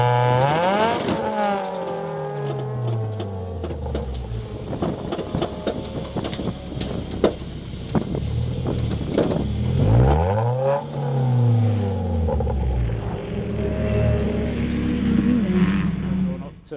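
A race car in an endurance race after contact, engine revving up and down through rising and falling sweeps with grinding, uneven gearbox noise, loud and continuous from onboard.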